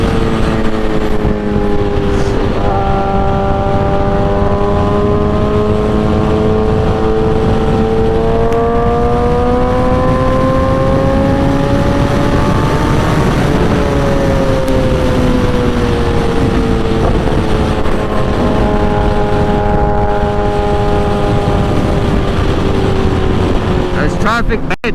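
A 2008 Suzuki GSX-R 1000 sportbike runs after a fuel treatment, its engine revving up through repeated rising pitch sweeps between gear changes, loud and close throughout with steady road and wind rush.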